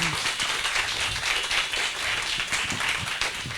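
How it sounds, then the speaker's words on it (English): An audience at a human rights memorial lecture gives a warm round of applause once the talk ends, with dense, steady clapping throughout and no speech. "Let's have a warm round of applause for an"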